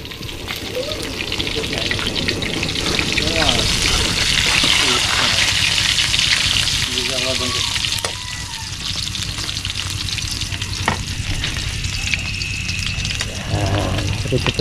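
Freshly caught fish frying in a pan, a loud, continuous sizzle and hiss that runs throughout, with people talking nearby and occasional clinks and stirring.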